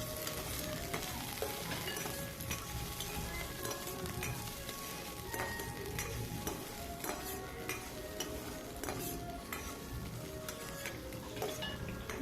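Finely chopped shallots frying with curry leaves in a pan, a quiet continuous sizzle with frequent light spoon scrapes and metal clinks.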